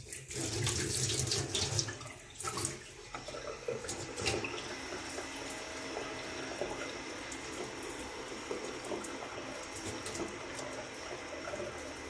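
Hot water runs from a tap fed by a Worcester Bosch boiler under a repair test. A steady, close hiss of flowing water with some clattering in the first seconds settles into a constant rush.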